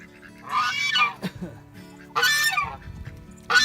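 A female goose honks in two loud bursts separated by a pause, with a third honk starting at the very end, heard close up outdoors and with no talking.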